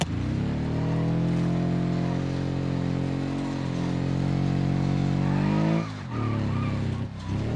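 Car driving in BeamNG.drive across a wasteland course, a loud steady engine drone with layered harmonics and tire skidding, pitch sliding upward near the end before a brief dip and recovery.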